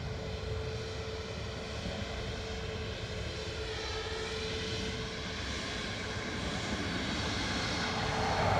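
A Ryanair airliner arrives at Dublin Airport, a steady broadband engine roar that swells slightly toward the end, heard from a distance outdoors with no talking.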